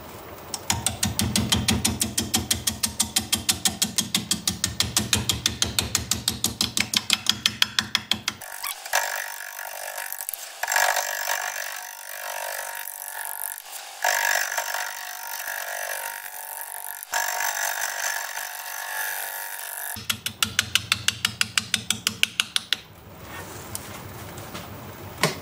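A wood lathe spins a manzanita root ball bowl at slow speed while a 5/8 inch bowl gouge cuts it, giving rhythmic ticking and scraping with intermittent heavy catches and a steady hiss, close and alone.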